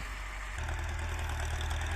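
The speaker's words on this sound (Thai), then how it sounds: "อยู่ไกลแค่ไหนก็รู้ครับว่าเป็นรถไถฟอร์ด" Ford 7740 tractor with a three-disc plow working a field, its diesel engine running steadily with a low, throbbing knock that deepens partway through.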